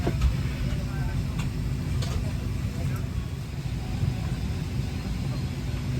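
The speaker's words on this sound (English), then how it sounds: "We're on the new plane now." Inside an airplane cabin: a steady low engine and air roar fills the space evenly throughout, with faint clicks and a brief tap near the start, and no talk over it.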